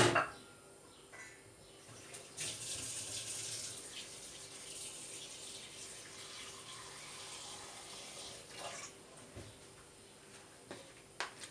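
Tap water runs steadily into a saucepan holding meat in a home kitchen, a continuous splashing flow with a few small clinks near the end.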